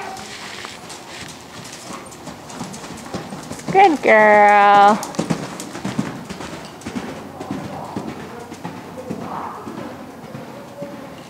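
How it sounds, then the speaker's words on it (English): A horse cantering in an arena gives soft, rhythmic hoofbeats under an instructor's voice. A loud whinny-like squeal cuts in partway through. "Good, and gently canter."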